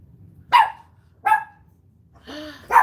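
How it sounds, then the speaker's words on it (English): A pet dog barks indoors in three sharp, loud, separate barks spaced about a second apart, close to the microphone, with a quieter whine between them and no talking. "My dog is saying hello."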